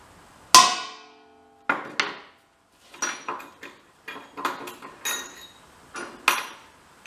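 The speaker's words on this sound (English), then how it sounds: "I'm going to punch it right on that weld" Sharp metallic hammer strikes drive a punch onto a weld, a loud isolated blow followed by a string of lighter, irregular taps with pauses, no talk.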